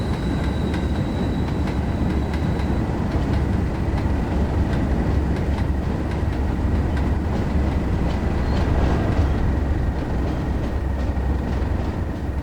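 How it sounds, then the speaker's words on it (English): Class 37 diesel locomotive hauling a train on the Tees Valley Line in Train Sim World 2: steady loud engine rumble and wheel noise with faint rhythmic clicking over rail joints, continuous throughout, no talk. "This would be a good video for no sound, just to listen to the train."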